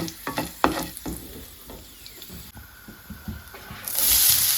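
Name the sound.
dried red chillies frying in oil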